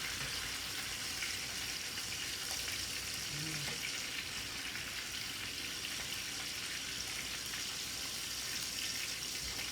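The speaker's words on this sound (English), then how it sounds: "we're going to let that sear for another 3 minutes" Chicken searing in a pan, a loud, steady broadband sizzle that carries on unbroken, with a brief faint low tone partway through.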